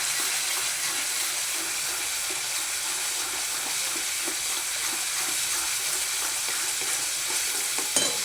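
Spinach and green garlic fry in hot oil with a steady bright sizzle and soft stirring scrapes throughout, close and even, with a small knock at the end.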